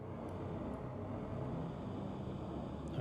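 Engine of the Aegis Sabre Raven spaceship in Star Citizen, heard from outside: a steady, low, dense rumbling drone with a constant level throughout, alone without talk.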